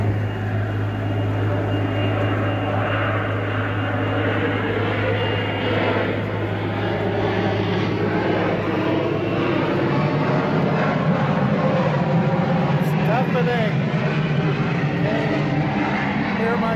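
Military jet aircraft pass overhead with a loud, continuous, broadband roar that fills the whole stretch without letup, heard from aboard a sailboat on the Intracoastal Waterway.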